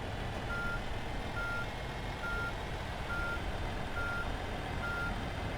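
A truck reverses in the On The Road truck simulator game, its backup alarm sounding a regular series of evenly spaced beeps over a constant low engine rumble, with no talking.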